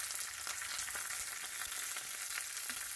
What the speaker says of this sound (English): we're just going to let them saute.